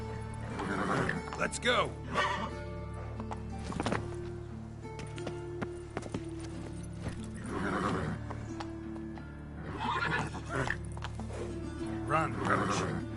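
Roach, Geralt's horse in The Witcher 3: Wild Hunt, gallops with rhythmic hoofbeats and occasional snorts or neighs beneath game music, while someone speaks briefly over it.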